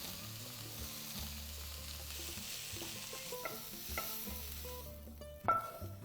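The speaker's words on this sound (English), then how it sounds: "So I'm just going to add the greens now and just cook them until they wilt down a bit." Swiss chard greens wilting in a skillet for a potato frittata, a quiet steady sizzle with soft stirring, ending in a sharper clatter of a utensil on the pan.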